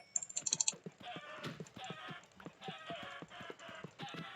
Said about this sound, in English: Get you guys that terrible sound of my mouse clicking over and over again